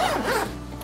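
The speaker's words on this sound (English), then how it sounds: "this zipper takes us to a front organizer pocket" A zipper pulled open on the front flap of a Lowepro Nova 200 AW II camera bag, one quick close rasping zip that lasts under a second, with no talking.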